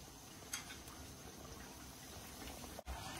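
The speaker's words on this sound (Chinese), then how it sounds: "油温六成下锅炸" A thin rolled flatbread with three slits in the middle fries in hot oil, giving a steady, faint sizzling bubble that holds constant from start to finish with no voices.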